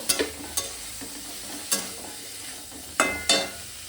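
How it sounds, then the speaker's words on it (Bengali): Shrimp being stirred in a frying pan before water spinach goes in for a Bengali chorchori, soft sizzling broken by several sharp scraping clanks of a spatula against the pan, no voices. "চিংড়িটা দিয়ে একটু নেড়ে আমি এইবার এর মধ্যে শাকটা দিয়ে দেবো।"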